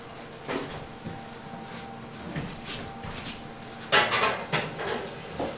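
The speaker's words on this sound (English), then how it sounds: "We're just going to pop it in the oven." A boned, stuffed and rolled Thanksgiving turkey leg goes into a home oven: soft kitchen clatter and handling knocks, then one sharp metallic clank of the oven door or roasting pan, followed by a few lighter rattles. Nobody speaks.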